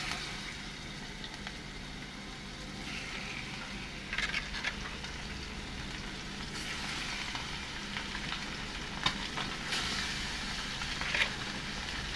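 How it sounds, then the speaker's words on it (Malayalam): Masala-coated fish fries in coconut oil with a steady, dense crackling sizzle throughout, close and even, broken by a few brief louder pops and spatters. "മീൻ അരപ്പൊക്കെ പുരട്ടി ഞാൻ എടുത്തിട്ടുണ്ട് നമുക്ക് ഇനി അതൊന്ന് ഫ്രൈ ചെയ്തെടുക്കാം"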